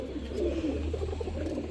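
Pigeons at a pigeon farm, low soft cooing that rumbles steadily and close by, with no other sounds over it.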